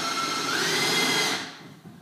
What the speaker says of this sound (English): Okay, so we're ready to drill the hole now.